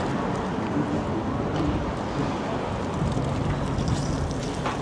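Strong wind blows outdoors along a downtown street, a loud, steady low rumble buffeting the microphone without letup.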